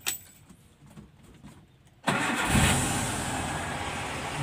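A 1997 Suzuki Espass engine cranks and catches after a couple of quiet seconds, then settles into a loud, steady idle close by.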